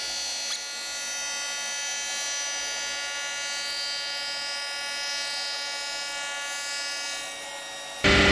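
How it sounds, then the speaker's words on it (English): A surfacer machine takes a light cut across a warped Nissan K21 cylinder head, giving a steady, high whining grind that holds evenly throughout before a louder burst right at the end. "I got the head in my surfacer machine. I'm gonna give this thing a little light cut and see how warped it is."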